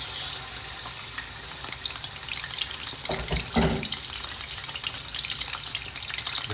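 Pieces of lamb leg frying in hot oil for a karahi, a steady close sizzle with a louder burst of spitting as more meat goes into the pan.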